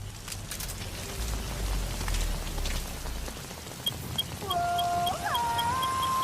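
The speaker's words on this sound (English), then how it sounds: "the rain and mist does make visibility a little low" Rain in Metal Gear Solid V: a steady patter of rainfall with mist, with a tonal game sound rising and shifting over it toward the end.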